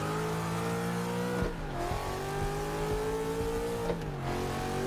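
A 495-horsepower V8 Nissan S13 drift car in Forza Motorsport 6 revs high with a loud, buzzing engine note, dropping briefly twice as it shifts and then climbing again.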